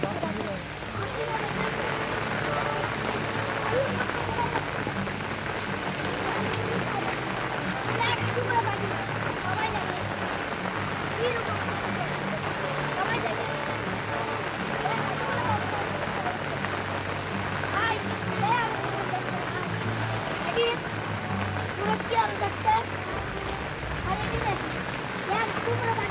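Steady heavy rain pours down over a flooded road, a dense continuous hiss with the wash of running water beneath, constant throughout with no voices.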